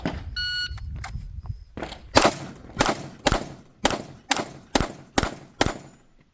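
A steady string of about seven loud, evenly spaced shotgun blasts on a 3-gun competition shooting stage, preceded by a few beeps and softer clatter, with no talking.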